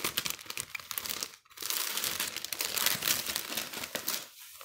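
Soft crepe paper crinkles and rustles up close as it is cut into thin strips, a steady papery crackle with a brief pause partway through and no voices.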